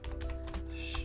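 A computer keyboard is typed on in a quiet room: a handful of soft, quick keystrokes, faint and close, with no one talking.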